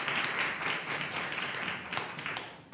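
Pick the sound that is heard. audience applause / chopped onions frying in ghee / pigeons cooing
audience applause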